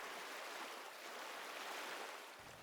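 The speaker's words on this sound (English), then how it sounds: "The sound of the ocean fades further into the distance of your awareness" Ocean waves wash in a soft, continuous hiss, faint and distant, with a steady level and no distinct breakers standing out.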